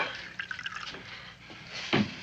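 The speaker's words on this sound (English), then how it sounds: "Pour me a mug of ale, will you?" Ale poured into a mug, a soft liquid trickle with small drips and a brief louder splash near the end, quiet and close.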